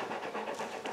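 An English Mastiff in labor pants rapidly and rhythmically, close by and fairly quiet, with no talking.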